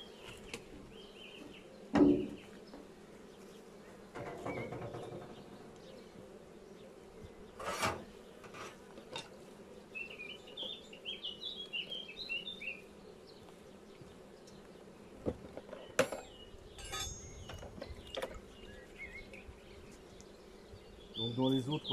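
Honey bees buzzing around an opened beehive, a faint, steady hum with scattered louder buzzes from bees passing close, mixed with occasional knocks and scraping from handling the hive.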